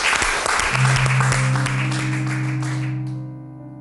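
Audience applause for a Neapolitan singer, a short burst of clapping that fades as a sustained musical note rises beneath it.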